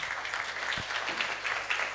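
An audience at a leadership conference in Calabar applauds, dense and sustained clapping from a crowd with no voices over it.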